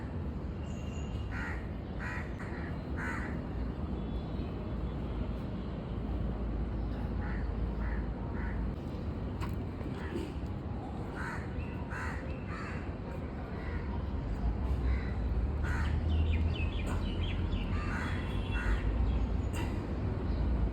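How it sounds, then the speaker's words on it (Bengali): Crows caw over and over from nearby trees beside a field in MIDC Navi Mumbai, with other bird calls in the mix and a dense low rumble of traffic from a main road underneath. "পুরো পাখির, কাকের, সব রকমের পাখির এখানটায় আওয়াজ পাচ্ছ"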